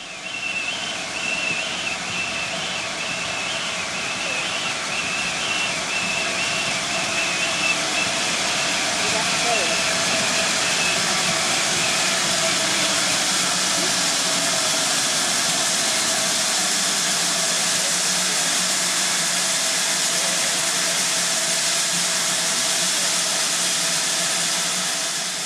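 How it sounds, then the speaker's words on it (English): A Great Western Railway 2884 class steam locomotive, designed by Charles Collett and built 1939 to 1942, gives off a steady loud hiss of escaping steam with a faint whistle-like tone, continuous and unbroken throughout. "Another of the classic Great Western Railway steam engines is this one, an example of the 2884 class."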